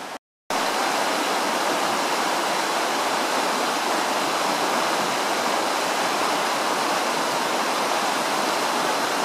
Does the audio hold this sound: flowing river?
yes